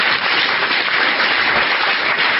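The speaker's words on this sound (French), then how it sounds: "Give the Lord a clap offering." A church congregation in Zürich gives a clap offering, loud continuous applause from many hands filling the whole stretch without a break.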